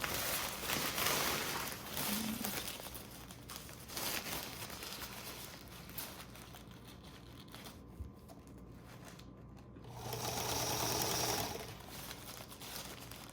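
A sewing machine stitches around the curved seam of a hospital gown, a quiet intermittent whir with rustling fabric between bursts and a louder, steadier run of stitching near the end.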